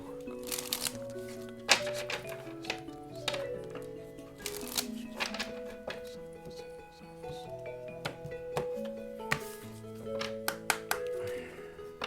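Tarot cards are shuffled by hand in repeated riffles and soft slaps, close and fairly quiet, with gentle background music tones running underneath.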